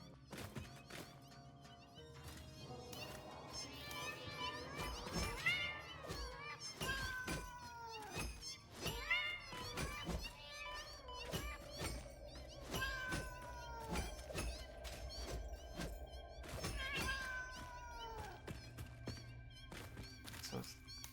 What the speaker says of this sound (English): the meowing is so loud